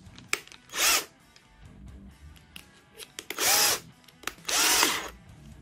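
Cordless screwdrivers, a Vonder PFV 074 and a Bosch GSR 7-14, drilling with a small drill bit, in three loud whirring bursts of about half a second each separated by quiet clicks and handling sounds, close up with no talking.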